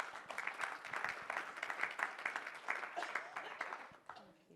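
An audience at a health inequalities talk claps in a moderately dense, fairly quiet ripple that fades near the end, with a voice faintly present underneath.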